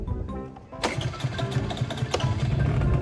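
A small scooter engine with a cold-start problem cranks and catches, then settles into a close, buzzing idle with a quick throttle blip.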